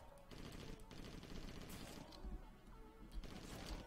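Rapid rifle fire in Critical Annihilation, continuous quick bursts of shots with a few heavier thumps, fairly faint amid game noise.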